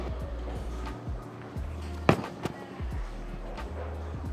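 A bowling ball rolls down a lane in a bowling alley with a steady low rumble, then smacks sharply into the pins with a loud crack and scattered clatter, set against busy background alley noise.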